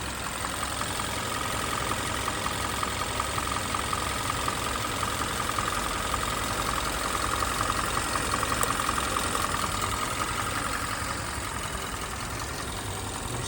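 A car engine idles with a deliberately induced misfire, a steady mid-to-low drone with a faint uneven roughness running continuously at moderate level, with no talking.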